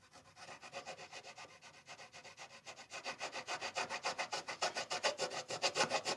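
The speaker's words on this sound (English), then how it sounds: "Running a flat rasp over the top is good because it just takes off the high parts" Flat rasp filing wood on a guitar, a close, steady run of rhythmic scraping strokes that quicken and grow louder toward the end, with no talking.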